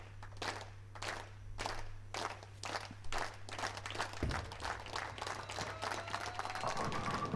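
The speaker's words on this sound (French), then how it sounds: "Avec les acclamations du public" Crowd at a professional bowling championship clapping and cheering around a final strike, rhythmic group claps building into a broad swell of applause and crowd noise, moderately distant and fairly faint.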